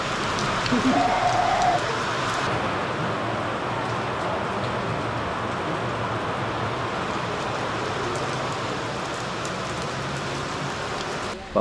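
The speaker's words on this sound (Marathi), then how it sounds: "पाऊस थांबण्याचं नाव घेत नव्हता." Heavy monsoon rain falls near Ashoka Waterfall outside Igatpuri in Nashik, a dense unbroken hiss that holds steady and loud for the whole stretch.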